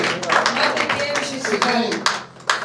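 A church congregation claps and applauds during a Thursday healing service, a dense, fairly loud patter of hands with sharp accents, while voices carry over the clapping.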